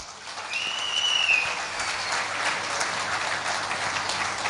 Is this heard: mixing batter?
no